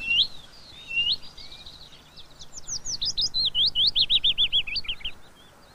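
A willow warbler calling repeatedly in a garden, a string of thin, rising and falling notes at close range, quickening into a rapid run of similar notes toward the end, with no other sounds.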